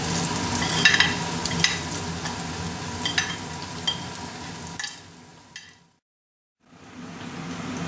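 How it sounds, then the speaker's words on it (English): Onions fry in oil with cashew nuts and split peas for upma, a steady close sizzle with scraping stirs, fading out, falling silent for a moment, then resuming. "When the onions are frying and coming slightly brown, you add your condiments."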